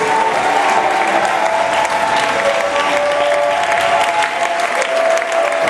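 A church congregation at a Sunday service claps steadily and loudly for Jesus, a dense, continuous applause with cheering voices mixed in and no break from start to end.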